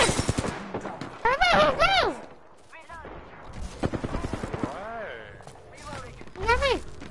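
Gunfire in the video game Fortnite, rapid bursts of shots rattling alongside loud, excited shouting from a young player, with sung or yelled voices overlapping the shooting.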